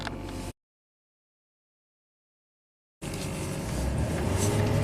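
Duramax diesel truck engine idling nearby, a steady low rumble that cuts out after a moment, leaves about two and a half seconds of silence, then returns and grows slightly louder and fuller.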